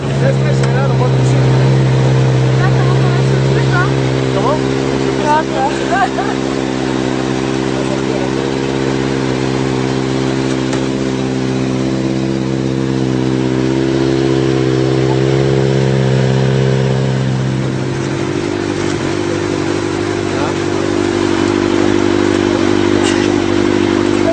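A revving car engine drones loudly throughout, its pitch holding then shifting lower partway through, with faint voices underneath.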